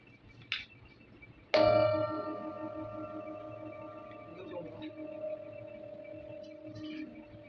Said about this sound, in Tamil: இந்த பவுலில் இந்த சவுண்ட் வரும்.